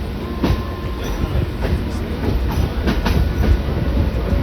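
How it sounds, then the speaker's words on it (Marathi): A MEMU train on the Pen–Diva line rumbles and clacks steadily along the rails at a station, loud and close, with rhythmic wheel clicks and a faint high metallic whine. "ही न्यू मॉडेल ट्रेन आहे ही ओल्ड आहे"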